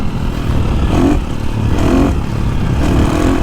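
A KTM 350 dirt bike with VORTEX mapping runs close and loud, its engine note surging and dropping in repeated cycles about once a second as it engine-brakes between throttle blips, with clattering chassis noise underneath.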